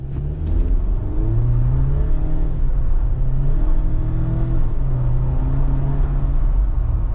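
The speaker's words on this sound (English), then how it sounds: "if we do a hard acceleration of this little vehicle" A 2026 Jeep Wrangler Rubicon with a turbocharged four-cylinder accelerates hard: a loud, steady engine roar with a rising drone, heard from inside the cabin and continuing without a break for the whole stretch.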